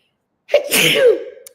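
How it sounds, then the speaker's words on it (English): A single loud sneeze close by, with a sharp intake and a bursting release that trails off quickly, with no talking around it. "I'm going to sneeze, I think."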